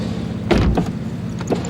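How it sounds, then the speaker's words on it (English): A Porsche 911 door swings shut with a soft-closing action, giving a muffled thump followed by a softer latch click a moment later, close by and with no talking. "Nice soft closing doors."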